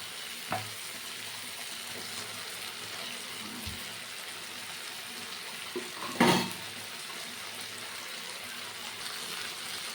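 Fish oil sizzles in a pan of softened tomato and onion for a Bengali fish-oil chorchori with eggplant. The frying is a faint, steady hiss, broken by a brief louder clatter partway through.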